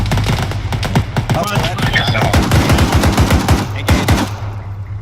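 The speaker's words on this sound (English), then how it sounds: "I heard shots." Gunfire in the military video game ArmA 3, loud bursts of rapid automatic shots with rhythmic repeated cracks, continuing for several seconds over a low background rumble.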